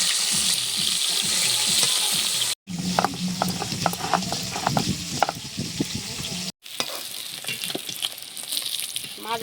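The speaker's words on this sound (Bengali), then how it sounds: "মাছ ভেজে তুলে নিচ্ছি।" Fish sizzling and frying in hot oil in a pan, a loud continuous crackle with scraping stirring sounds, briefly cut off twice.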